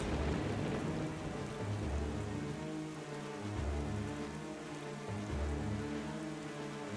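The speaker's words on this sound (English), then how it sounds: "it's really cool having the storm" Steady rainstorm in The Legend of Zelda: The Wind Waker HD, a continuous hiss of rain with low rumbling beneath and game music playing alongside it throughout.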